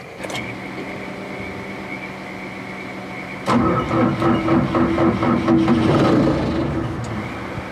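A broken excavator's diesel engine cranks with a steady whirring starter, then catches and fires abruptly, settling into a loud, rough running clatter that slowly eases.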